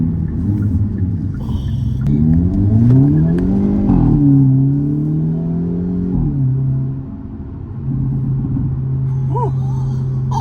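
A deep engine exhaust rumble from a 2023 Hyundai Elantra N rises and falls as the car revs, a steady low drone running throughout with a brief dip before picking back up.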